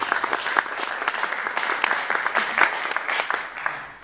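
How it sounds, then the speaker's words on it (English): Audience applause at a university authors' event, a dense, steady wash of many hands clapping that fills the whole moment without pause, fairly close and moderately loud with no talking over it. "She deserves your applause."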